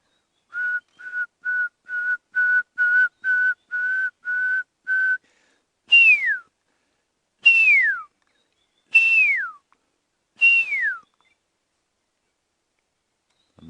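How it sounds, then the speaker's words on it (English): A pearl-spotted owl calls at night: a run of about ten short, evenly spaced whistled notes, then four longer, louder descending whistles with gaps between, clear against silence. "there's a pearl-spotted owl calling here"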